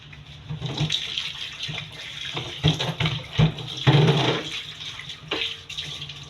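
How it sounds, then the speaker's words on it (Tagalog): A razor rinsed under a running tap, water splashing and gurgling close by at a steady pace with a few louder bursts as the blade passes through the stream, no voices. "Hugasan mo lang para hindi mabaho ang razor."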